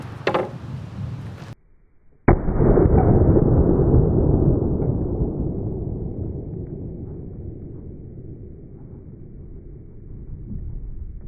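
A 5.7 green tip rifle round fired outdoors through a drywall test panel: one loud, sharp blast followed by a long rumbling echo that slowly fades, with a brief muffled noise beforehand.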